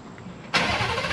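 A supercharged 750-horsepower Ford F-150 pickup, already warm, starts remotely: a quiet moment, then a sudden loud catch into a steady, full-bodied rumble close by.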